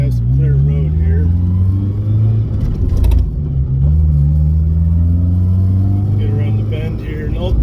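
A Ford Mustang SVO engine revs on an open road, a loud, close exhaust drone that rises and falls in pitch through gear changes, with someone talking over it.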